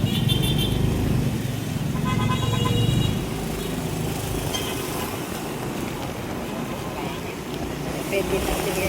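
Busy city street traffic in Pasig, with passing cars and motorcycles, a few short horn toots early on, and people talking nearby over the steady road noise.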